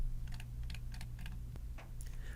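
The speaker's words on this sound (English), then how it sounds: "I can type out my email body" Typing on a computer keyboard, with several soft, close clusters of keystrokes over a low steady hum and no talking.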